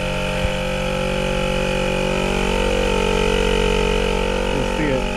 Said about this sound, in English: I threw the compressor on there and it seems to be working great